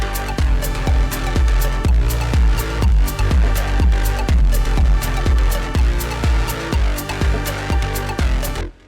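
Music with a bass shelf boost around 100 hertz, a steady beat of punchy, heavy low-end hits repeating evenly, loud and up close, ending abruptly.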